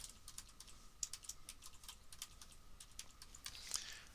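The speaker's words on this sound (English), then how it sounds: "I'm going to type in my email" Rapid typing on a computer keyboard while entering an email address, a steady stream of close, light clicking keystrokes with a couple of sharper taps and no talking.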